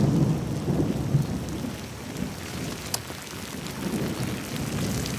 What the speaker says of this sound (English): OK, you can cut the rain.